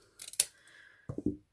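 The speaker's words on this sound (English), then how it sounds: "I'm just going to take the scissors" Scissors snip along fabric edges while trimming a no-sew fabric hair bow: a quick burst of crisp clicks, a brief pause, then a second cluster of close, quiet cuts.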